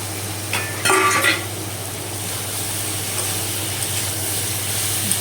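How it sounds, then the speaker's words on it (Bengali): Fried potato pieces drop into a pan of sautéed onion and spices, then fry and get stirred, a brief clatter of their landing giving way to a steady close sizzle under a low hum, with no voices. "এখানে আমি আলু, ভাজা আলুর টুকরোগুলো দিয়ে দিলাম।"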